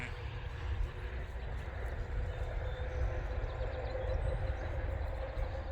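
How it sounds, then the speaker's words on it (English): Steady roar of highway traffic running past the highway side of a sheep farm during lambing, a continuous low rumble with no break, heard at moderate distance and without talk. "Sorry about the commuting noise."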